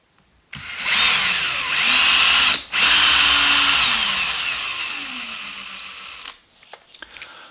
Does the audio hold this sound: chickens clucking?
no